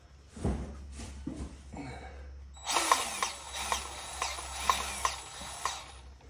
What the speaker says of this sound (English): I'm just gonna shoot a little grease in there.